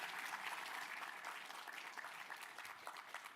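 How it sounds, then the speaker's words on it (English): Applause from the audience at a hospital resident and fellow graduation ceremony, a faint, even wash of clapping heard from a distance that holds steady for a few seconds. "That's worth an applause, right?"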